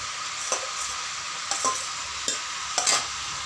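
Fried potatoes stirred into sizzling cabbage in a frying pan, with a steady oily hiss broken by four or five sharp scrapes and clacks of a spatula against the pan, close and alone.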